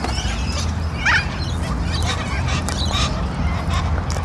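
Geese honk loudly and repeatedly at close range over a steady bed of fowl chatter and low background noise, with one sharper honk standing out near the start.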